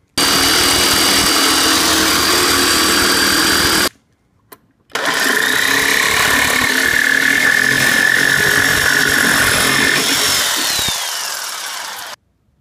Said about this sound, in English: we'll see if this cuts a little bit better now that it's got some teeth on it